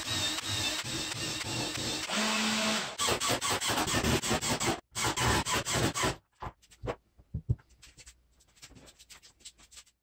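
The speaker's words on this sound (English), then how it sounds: "so I just go ahead and drive in all my screws" A power driver sends screws into a DIY CNC router frame in a series of loud, close bursts of whirring and rattling, then the noise drops to scattered softer handling knocks and brief runs.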